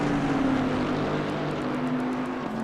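Onboard engine sound of an Aston Martin race car in a PS5 racing game at Zandvoort, a continuous high droning tone that shifts slightly in pitch, steady and fairly loud.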